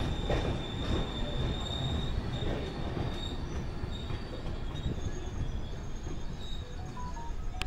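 The Shalimar–Puri Weekly Super First Express runs along the rails, a continuous rumbling roar with high metallic wheel squeal and faint clatter, heard from inside a coach without talk.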